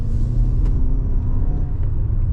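A 2026 Toyota RAV4 SE plug-in hybrid with all-wheel drive accelerates in sport mode, heard from inside the cabin as a loud, steady low rumble of road and motor noise without speech.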